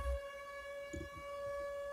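A steady, sustained siren tone drones on without a break, with a few soft low thumps beneath it and no voices.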